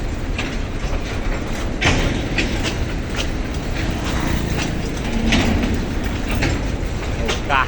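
Freight train departing through the town of Itapipoca, Ceará, Brazil: a continuous clanking, rumbling roll of wagons with repeated metallic knocks and squeals, fairly loud and steady throughout.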